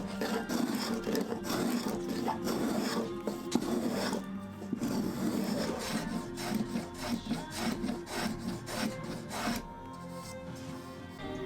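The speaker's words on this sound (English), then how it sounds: "Next I could clean up the edges of the lamination, and I used a spoke shave for that." A spokeshave scrapes and shaves along the edges of a plywood lamination in steady, repeated rasping strokes, close and continuous, with no voices.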